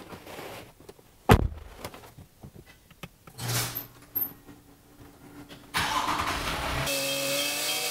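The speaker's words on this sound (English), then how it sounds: "I'm gonna go crack my garage door and start this truck up, let it run for a little bit" A third-generation Toyota Tundra pickup in a home garage: keys jangle, a door thumps shut, then the engine cranks, catches and settles into a steady, fairly loud idle, with no talking.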